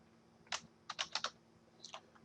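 Typing on a computer keyboard to name a new folder, with a single keystroke, a quick burst of four clicks, then a couple more, all close and fairly faint in a quiet room.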